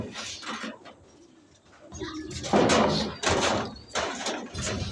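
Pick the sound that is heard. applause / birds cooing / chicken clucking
birds cooing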